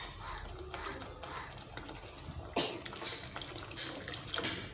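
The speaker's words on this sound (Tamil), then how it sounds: "நான் மிக்ஸி ஜாரை அலம்பிட்டு தண்ணி சேர்த்துக்கிறேன்." Water splashing and pouring as a mixer jar is rinsed out into a pot of paneer gravy, a soft continuous wet trickle with a few sharper splashes near the end.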